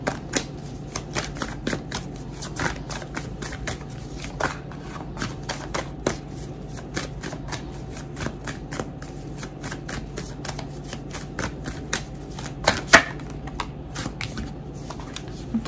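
Tarot cards are shuffled by hand, giving a steady run of soft riffling flicks and taps that repeat at an even, brisk pace, close and fairly quiet with no talking.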